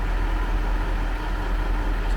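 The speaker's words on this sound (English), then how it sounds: "So hooking the generator up" A portable generator runs steadily nearby while equipment is unwrapped and rigged for lifting off a small truck, a constant low mechanical hum with no breaks or changes in pitch.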